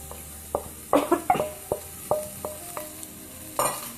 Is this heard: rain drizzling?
no